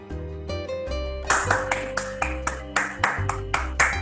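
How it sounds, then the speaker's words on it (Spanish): Participants in an online meeting clap together over their open microphones, a string of regularly spaced claps cutting through sustained musical tones, with no one speaking. "nos felicitemos todos con un aplauso"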